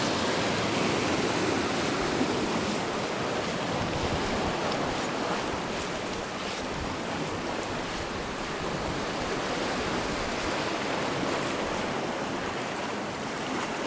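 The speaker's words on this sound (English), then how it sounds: "Can I beat the waves?" Ocean surf breaking continuously along the shore at Spoon Cove, Upper Island Cove, Newfoundland, a steady broadband wash with heavy wind noise buffeting the microphone throughout.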